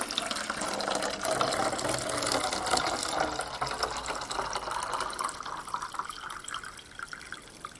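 Hot water poured into a container for a science demonstration on ice; a steady, close splashing and gurgling stream that fills the whole span, softening slightly toward the end.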